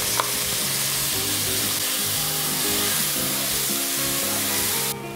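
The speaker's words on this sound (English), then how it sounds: "it's time to add my onions" Chopped onions hit a hot pan over a medium flame while preparing red wine-braised short ribs, giving a loud, steady sizzle with stirring that fills the whole stretch before cutting off near the end.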